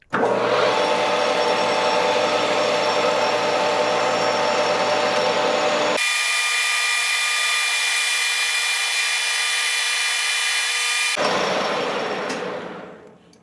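Lathe or similar machine tool turning a fuel T fitting for Keihin CVK carburetors at 1,000 RPM, a steady loud grinding cutting noise that shifts to a higher-pitched whine midway, then winds down at the end.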